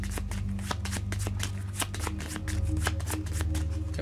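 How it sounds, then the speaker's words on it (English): A deck of board game cards for a Resident Evil board game is riffled and shuffled in rapid crisp bursts, close and steady, with no talking. "So let me just shuffle these because we're going to have to draw one of them immediately."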